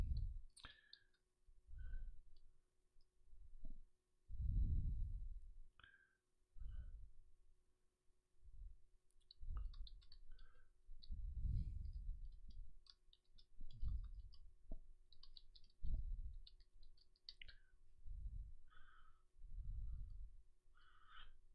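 Someone types on a computer keyboard, giving quiet, quick bursts of keystroke clicks spread through the clip over a soft, low background rumble, with no talking.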